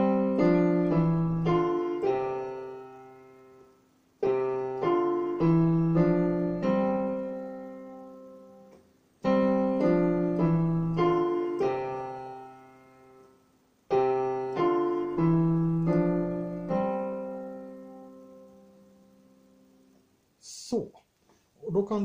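Five-finger keyboard exercise played with both hands together, four repeated phrases of stepwise notes separated by short pauses, each note ringing and fading, clear and close with no talking.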